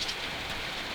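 Steady rain falling and pattering on surfaces outdoors, a soft continuous hiss heard alone for a brief moment.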